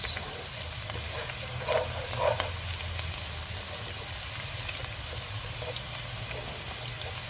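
Chillies frying in sauce in a pan give a steady, close sizzle for the whole stretch, with a few brief clinks of stirring early on and no talk.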